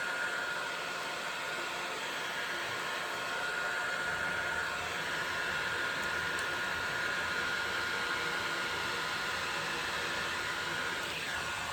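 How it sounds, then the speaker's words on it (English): A heat gun blows hot air over a freshly poured resin table top, giving a steady, loud, unbroken rushing hiss that holds for the whole stretch with no voices. "take my heat gun and move this around"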